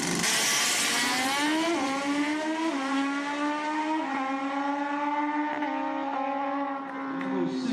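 A pair of Suzuki Hayabusa drag racing motorcycles make a pass at the Summer Dash, engines screaming loudly and climbing in pitch through several distinct gear shifts before fading slightly at the end, with no talk.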